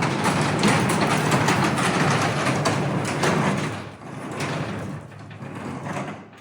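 A garage door, freshly fitted with a spring carrier bracket, rolls open in a loud rumbling slide for several seconds, then quiets and rattles more softly near the end.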